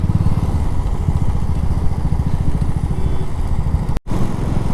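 Motorcycle ridden along the road toward Chikmagalur, its engine a steady loud chugging drone close by that cuts out abruptly for an instant near the end before resuming.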